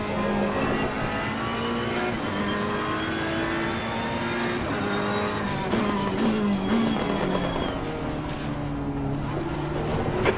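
GT3 race cars in a sim racing game lap Misano, with engines revving and shifting up and down close by, brief tyre squeal as several cars run together.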